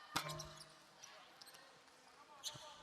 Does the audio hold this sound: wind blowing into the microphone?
no